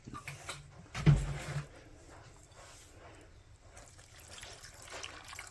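Regular white vinegar is poured from a cup over a cucumber salad, giving a soft liquid trickle with a brief splashy burst near the start, then a quieter dribble.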